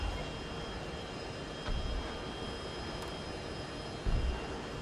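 An airplane engine in a military video game drones steadily at moderate distance, a constant hum with a faint whine and two brief swells, and no speech.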